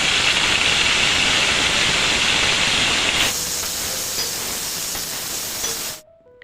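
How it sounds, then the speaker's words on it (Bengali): Cauliflower florets coated with salt and turmeric fry in hot oil, giving a loud, continuous sizzling hiss up close. The hiss drops slightly in level midway, then cuts off abruptly near the end, with no talk. "ফুলকপিটা ভালোভাবে নাড়াচাড়া করে এপিট ওপিট ভালো করে ভেজে নিতে হবে।"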